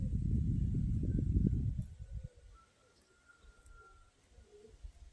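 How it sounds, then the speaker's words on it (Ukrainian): Pigeons cooing at a home pigeon loft, low throaty coos and wing flutter loud and near for about two seconds, then fading to quieter scattered coos in the background. "Ах, мій домашній голубідром."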